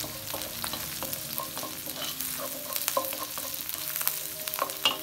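Crab kizhi masala sizzles in a pan while a spoon stirs it, giving a close, steady frying crackle broken by light scraping strokes, with no talk.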